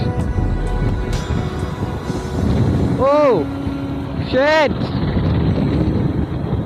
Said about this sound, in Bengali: বাতাসে এত পরিমাণ বাতাস গাড়ি এদিকে টানতেছে ও মাই গড ভাই এত বাতাস